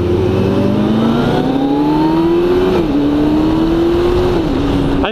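A Kawasaki ZX14 motorcycle engine pulls hard under acceleration while riding, its pitch climbing steadily through two gear changes, with loud continuous wind rush over the engine note.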